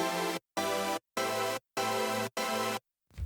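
Chords from a layered synth stack with the piano layer switched back in, five punchy sustained hits spaced by short silences, loud and unaccompanied, followed by a faint trailing noise at the end.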